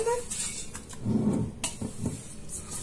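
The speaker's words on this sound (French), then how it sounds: "Je vais juste touiller tout ça pour que le sel et le vinaigre, ça va dans tous les morceaux de viande." Meat being stirred with salt and white vinegar in a pressure cooker: scraping and clinking of a utensil against the metal pot in irregular bursts, close by, with a voice talking over it.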